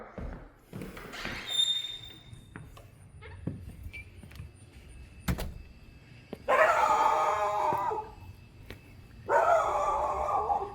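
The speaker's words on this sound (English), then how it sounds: "Neighbor's dog's barking a little." A neighbor's dog barks a little in a backyard of an 1897 house in St. Louis, with intermittent distant barks early on and two louder, sustained bursts of barking later.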